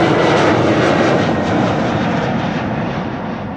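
An Embraer 190 airliner at Amsterdam Schiphol Airport gives a loud, steady jet engine roar that slowly fades as the plane moves away; no voices.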